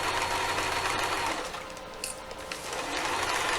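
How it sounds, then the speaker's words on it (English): An old sewing machine back-stitches a quilt seam. It gives a steady, close mechanical whir that briefly dips in the middle before resuming, with no talking. "I got an old machine that it doesn't anchor stitches real well, so much rather take the 10 seconds, throw back stitch in."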